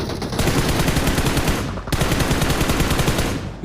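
Automatic weapon fire in the mobile shooter BGMI: loud, rapid bursts of gunshots in fast rhythmic succession, with a brief break midway before firing resumes.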